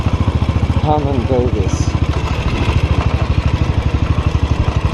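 A Royal Enfield 500 motorcycle engine thumps in a steady, rapid, loud pulsing rhythm close by on a mountain highway, while someone talks over it.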